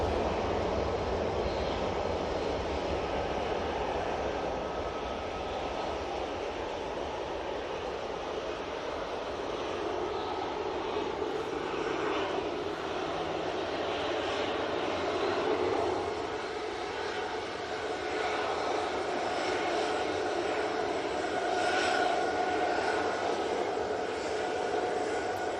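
Engines of a British Airways airliner at Manchester Airport give a continuous broad roar with a low rumble, holding steady over the whole span with only slight swells and no talk.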